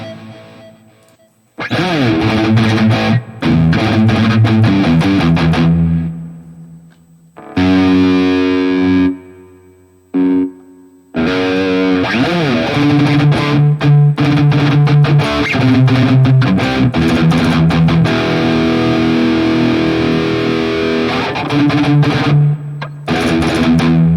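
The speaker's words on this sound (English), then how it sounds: "Gated boost. So here you have it. Low cut and a gate." Distorted electric guitar through a gated boost with low cut on a Hotone Ampero multi-effects unit, loud palm-muted chugs and riffs in tight bursts that cut off abruptly into silence between phrases.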